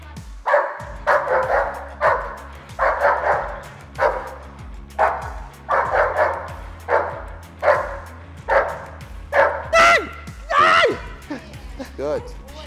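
A protection dog barks repeatedly in rhythmic bursts during bite-work training, loud and close, with trainers' voices and commands in between and a whimpering yelp near the end.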